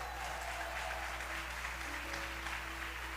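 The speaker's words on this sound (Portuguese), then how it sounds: "Se é para aplaudir, vamos aplaudir, né? Com força." A church congregation applauds steadily, a dense, even wash of clapping held at an even level throughout.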